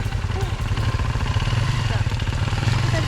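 A motorcycle engine chugs unevenly and loudly nearby on a slippery road thick with mud and volcanic ash in Indonesia, with a rough, rattling, low rumble and mechanical clatter throughout.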